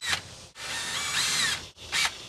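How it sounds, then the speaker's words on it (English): A power drill boring pilot holes in a storm door during installation: two short high-pitched whirring bursts flank a longer sustained drilling run, close and clear, with no talking. "and then we're gonna drill some pilot holes."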